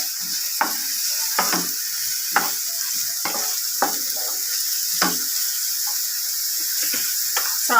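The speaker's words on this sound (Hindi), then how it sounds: "ऐड करने के बाद इनको भी लाइट फ्राई कर लेंगे" Tomato and carrot fry lightly in a pan under a soft steady sizzle, with sharp scraping stir strokes landing at irregular intervals over it.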